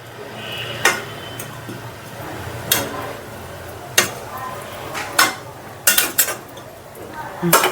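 Pieces of rohu fish go into a pot of gourd curry, with sharp clinks and clatters of a utensil against the pot scattered irregularly over a soft simmering background.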